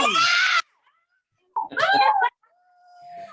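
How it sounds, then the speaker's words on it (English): A classroom of children scream loudly in two bursts, the first about half a second long and the second longer, with silence between them. "get as loud as you can, and go. I want y'all to scream."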